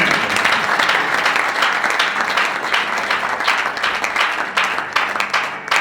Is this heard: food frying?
no